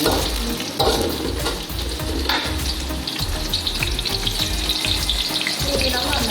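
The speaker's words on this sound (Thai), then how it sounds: "มันจะหอมเอามาทอดทอดกับน้ำมันหน่อย" Sliced shiitake mushrooms sizzle and crackle steadily in hot oil, close and loud, with occasional stirring clatter and no talking.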